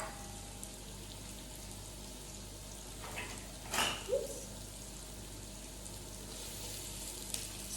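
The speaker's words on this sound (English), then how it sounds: "I'm gonna fry my onions." Onions frying in hot oil for lamb biryani, a soft, steady crackling sizzle throughout, with a couple of brief louder clatters from stirring partway through.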